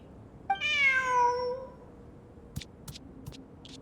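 A cat gives one clear, drawn-out meow up close, followed by a few faint clicks and rustles in an otherwise quiet room.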